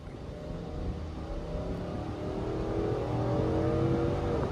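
A 2022 Nissan Armada SV with a 5.6-liter V8 accelerates hard, its engine note rising steadily and growing louder, heard close from inside the cabin with no talk.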